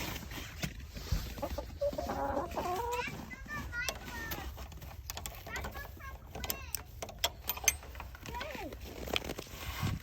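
Backyard chickens cluck and chatter in sub-zero winter weather around a coop, a scattered series of close clucks mixed with wind and plastic flapping, while people talk over them.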